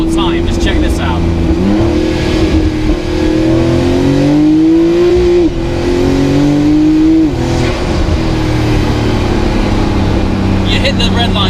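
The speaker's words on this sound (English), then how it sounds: "For a turbo car, it actually revs very fast." A W Motors Fenyr SuperSport turbocharged hypercar engine revs hard and close, its loud pitch climbing and falling in repeated sweeps as it hits the redline quickly.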